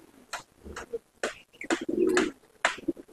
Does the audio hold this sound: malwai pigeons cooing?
yes